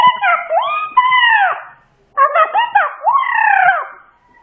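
A pet parrot imitates a dog, giving loud, close, howl-like barking calls in two bursts with a short pause between them.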